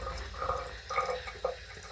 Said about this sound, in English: Just adding a little bit of water here and there.